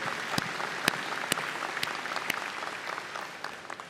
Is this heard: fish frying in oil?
no